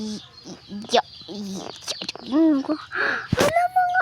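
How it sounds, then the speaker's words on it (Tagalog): Baby chickens peep and chirp in high, thin bursts close by, mixed in with a person talking. "Ang kikit ng mga anak ng manok guys."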